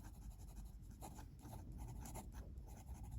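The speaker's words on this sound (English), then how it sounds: "So I'll do a quick writing sample" A Lamy Safari extra fine fountain pen writes on 90 gsm Clairefontaine paper, giving a soft, steady scratching of nib strokes heard close up in a quiet room.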